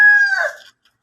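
A fighting cock gives a single short, loud crow close by, a bright strained call that fades within about a second.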